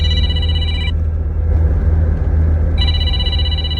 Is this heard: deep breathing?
no